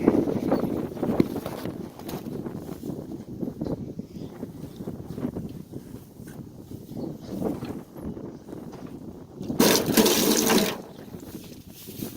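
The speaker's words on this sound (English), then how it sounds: "I'm just going to fill it with water." Water splashes and gurgles into a dish being filled for a cow on a farm, with shuffling and knocking around it and a louder rush of pouring near the end.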